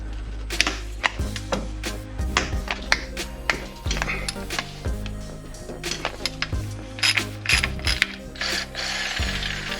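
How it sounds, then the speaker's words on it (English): A ratchet wrench fitted with a 17 mm socket loosens transmission bolts on a Mk4 Volkswagen Golf during a clutch job, giving rapid, close, loud clicking bursts in a steady back-and-forth rhythm. "I'm taking them off with a 17 millimeter"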